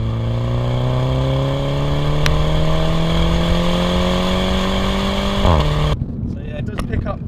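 A Mini John Cooper Works F56 with its 2-litre turbo engine pulls hard through the gears, its engine note climbing steadily in pitch, loud and close, before a quick shift and an abrupt drop into quieter road noise.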